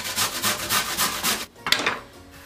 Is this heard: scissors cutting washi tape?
no